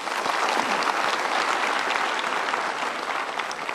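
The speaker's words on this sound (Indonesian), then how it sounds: "kita berikan tepuk tangan" An audience at a motivational seminar breaks into steady, dense applause that holds at an even level for several seconds, with no talk over it.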